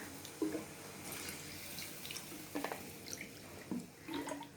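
Water is poured from a small bowl into a pan of lentil-cake (dhoka) curry, giving a few short splashing bursts and soft trickles at close range, with quiet gaps between pours.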